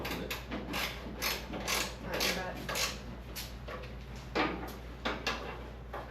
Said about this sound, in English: Here, I got your ratchet wrench right here. You can use this one.